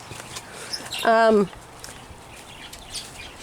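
A pet bird in a breeding setup gives a single short, warbling call, close and fairly loud against a quiet room background.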